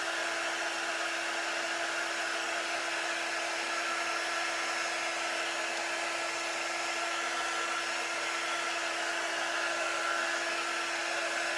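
A hair dryer blowing on wet paint, a loud, steady, close whir with a constant high pitch that runs unbroken from start to finish, with no talk over it.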